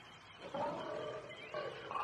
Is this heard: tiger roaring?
yes